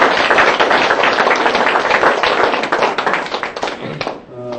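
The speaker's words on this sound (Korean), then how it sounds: "박수 한번 쳐주세요." An audience claps together at a company banquet honouring model employees, a dense, loud, steady burst of applause that thins out at the end.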